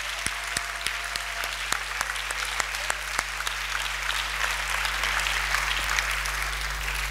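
A church congregation applauding at a Sunday service, dense sustained clapping from many hands with a low steady hum underneath and a faint voice briefly heard.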